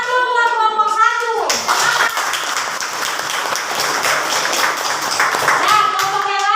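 A classroom of children claps hands together for a group about to present, a dense burst of clapping lasting several seconds, with a voice speaking briefly just before and after.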